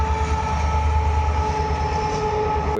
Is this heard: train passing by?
yes